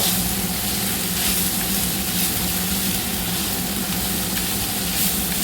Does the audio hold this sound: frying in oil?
yes